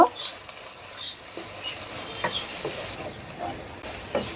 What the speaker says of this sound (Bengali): এগুলো দিয়েও আবারও কিছুক্ষণ ভেজে নেব